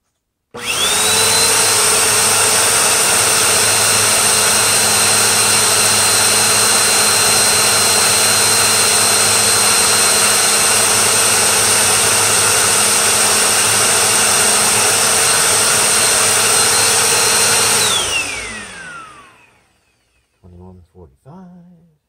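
A Bissell Powerforce bagged vacuum cleaner runs with no bags fitted, a loud close steady roar and whine that holds for about eighteen seconds, then winds down with a falling pitch, followed by a few faint handling clicks.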